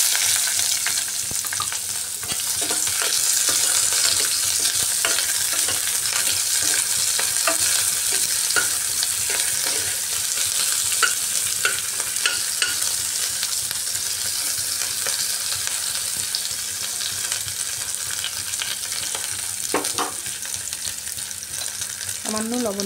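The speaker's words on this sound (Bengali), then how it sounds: "পকোড়া ভাজার তেলের মধ্যেই বড় বড় করে কেটে রাখা পেঁয়াজগুলো ভেজে নিচ্ছি" Large-cut onion pieces frying in leftover fish pakora oil, a steady loud sizzle with occasional stirring clatter throughout, no talking.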